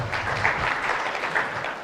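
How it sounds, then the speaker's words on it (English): An audience at a university freshers' orientation gives the Dean a hand, with sustained clapping rising and falling slightly over a low rumble. "A bigger hand clap for your Dean."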